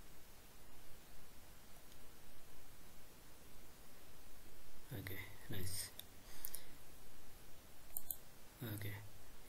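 Computer mouse clicks come as a few short, sharp taps at scattered intervals over quiet background hiss, fairly close and crisp.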